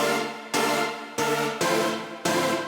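A layered synth chord without distortion effects repeats four times in a steady rhythm, each hit starting bright and loud, then decaying slightly before the next one.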